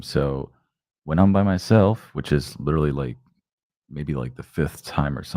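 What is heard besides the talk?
None of the usual background noises is heard.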